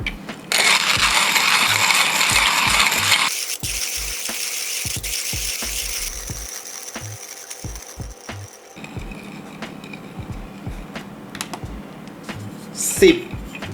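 Timemore C2 titanium-version hand coffee grinder crunching 10 grams of beans at 8 clicks, a close, loud rhythmic grinding and ratcheting that fades as the beans run out, ending with a sharp clack.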